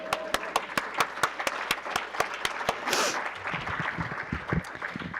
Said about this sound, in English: but we're going to clap for Jackie